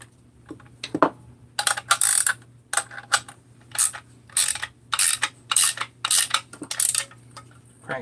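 A ratchet cranking down bolts on a 394 crankcase, quick bursts of clicking in an uneven rhythm with short pauses between strokes, close and fairly loud.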